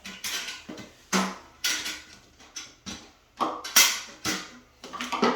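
Plastic lid pulled off a Capralite milking machine bucket, a series of close clattering knocks and scrapes in uneven bursts, with no voices.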